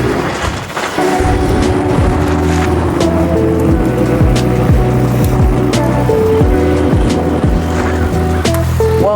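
Ridstar Q20 electric unicycle rolling along with steady tonal motor whine and road rumble, continuous and fairly loud throughout, with a One Wheel board riding alongside at sunset.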